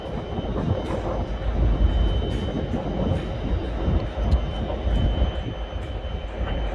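Voyager and Pendolino trains pulling out together from Crewe station, a continuous rumbling rail roar with faint clanks, moderately distant and without speech.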